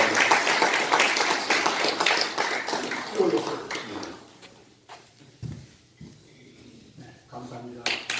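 Audience applause at a New Year thanksgiving service and celebration rings out with many hands clapping, then thins and fades over a few seconds. A few scattered claps and a speaking voice follow.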